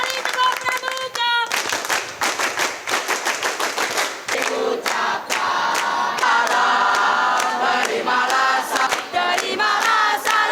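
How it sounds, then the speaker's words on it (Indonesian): A large Scout rally crowd performs the tepuk pramuka rhythmic clap, sharp loud claps in patterned bursts and pauses, with shouted group voices chanting between some of the clapping sections. "Satu kali tepuk pramuka."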